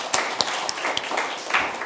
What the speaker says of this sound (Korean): 박수 한번 보내주시면 좋겠습니다.